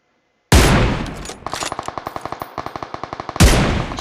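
Automatic gunfire aimed at the tires of a Mirado car in PUBG Mobile: a loud opening burst, then a rapid run of sharp, evenly spaced shots, ending in another heavy burst, with no talk.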